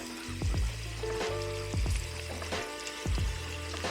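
Lamb chops sauté in an Instant Pot on its sauté setting, giving a quiet sizzle broken by a regular series of scraping, stirring strokes roughly every second.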